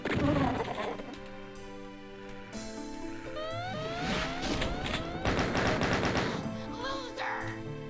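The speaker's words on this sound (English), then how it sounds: "I keep hearing those turrets," Turret gunfire in the shooter game Doom, rapid repeated shots rattling in bursts amid chirpy electronic game effects and a dense mix of other in-game sounds, moderately loud throughout.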